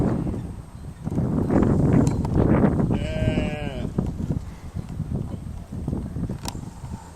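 During sheepdog herding training, a sheep lets out one clear bleat amid a bustle of hooves and movement, with a person speaking nearby.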